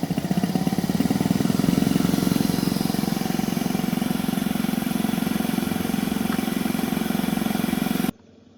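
A piston compressor on a test rig runs at steady speed, a loud, close, even pulsing chug with a low hum, continuing unbroken until it cuts off abruptly near the end.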